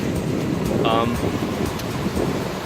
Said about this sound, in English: I'm just sitting on some rocks right now, watching the waves come in.